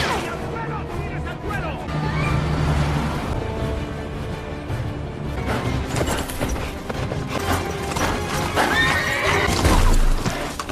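Police cavalry horses in a film chase, with loud whinnies and neighs over rapid clip-clop hoofbeats, mixed with crashing and chase commotion throughout.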